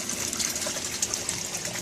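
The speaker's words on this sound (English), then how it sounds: "the water inside here starts running down this tube real fast" Water rushing fast down a drain tube as a flood-and-drain aquaponics tank empties, a steady close gush with small gurgles throughout.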